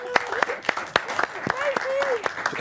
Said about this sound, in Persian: تشویقشون کنین خواهش میکنم.